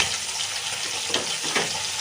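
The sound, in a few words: chital fish frying in mustard oil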